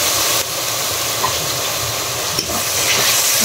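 Spice paste of cumin and other masala for a prawn malai curry fries in a pan with a little water, a loud continuous sizzle and hiss close up, broken by occasional scraping stirs, with no voices.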